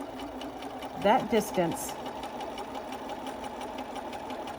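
A sewing machine runs in a short burst of stitching along the bottom edge of a fitted fabric face mask, close and clear, while a person talks over steady background noise.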